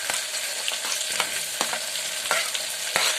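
Curry leaves and onion cook in hot oil over a low flame, giving a steady, close sizzle broken by repeated sharp scraping taps as the pan is stirred.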